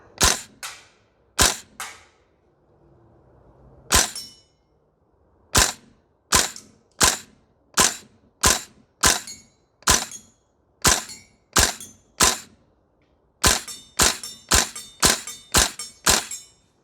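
Sharp, loud gas blowback shots from a VFC URGI V3 airsoft rifle fitted with 4UAD parts, fired at targets: a few spaced single shots, then steady evenly paced strings of cracking reports with brief mechanical clack, no talking.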